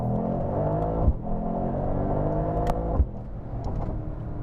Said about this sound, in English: You want to hear that engine.